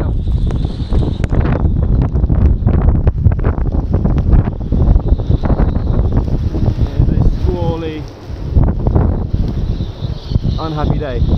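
Loud, blustery wind roars and buffets the microphone outdoors beside a lifeboat conversion, steady and gusty throughout, with a voice heard briefly beneath it.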